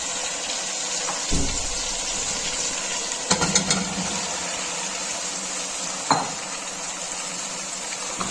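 Potato and cauliflower vegetables are mixed into a prepared masala in a pan, a steady hiss of frying with a few scattered scrapes and knocks of stirring.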